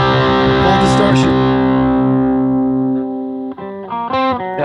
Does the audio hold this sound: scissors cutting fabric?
no